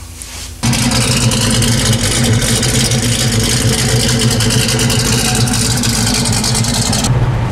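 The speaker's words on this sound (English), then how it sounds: "Let's go do some burnouts." A car engine roars loud and steady after a brief quieter start, revving hard for a tyre burnout meant to clear flat spots, with a constant dense drone that cuts off near the end.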